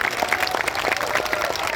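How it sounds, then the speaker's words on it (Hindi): A large crowd on a religious pilgrimage march at Bageshwar Dham claps loudly to bless a newly married couple, giving dense, continuous applause made of many overlapping hand claps. "तो जोरदार ताली बजा करके इन दोनों को आशीर्वाद करें।"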